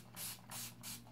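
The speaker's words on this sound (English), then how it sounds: "I liberally, because I don't usually talk, spray this in my hair" Hairspray is misted onto curly hair in three quick, close bursts, each a soft, airy hiss with short pauses between.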